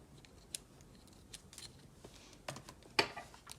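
Scissors snip crochet yarn up close in a quiet room, a few faint clicks and soft cuts, the sharpest one near the end.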